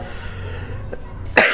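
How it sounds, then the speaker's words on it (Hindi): A single short, sharp cough bursts out near the end, loud and close, after a stretch of quiet low hum. "थोड़ी सी खांसी आ गई"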